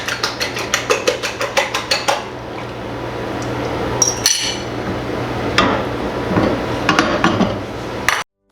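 A frying pan clanks and scrapes on a stovetop while breakfast cooks, starting with a rapid run of about a dozen sharp metallic taps, then irregular scraping, knocks and clatter up close.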